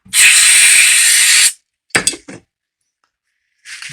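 A strong hiss of aerosol brake cleaner spray, cleaning engine parts, bursts for about a second and a half, followed by a few faint clicks and a brief second spurt.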